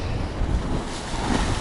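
Rough sea surf breaking on a beach at Adler, a steady loud roar of churning waves with wind buffeting the microphone throughout, no voices.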